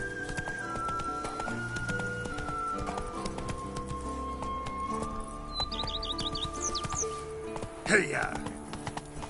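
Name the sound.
horse Roach galloping in video game Witcher 3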